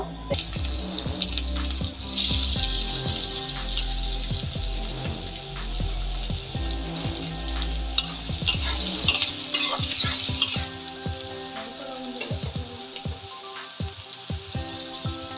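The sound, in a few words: onions and dried fish frying in oil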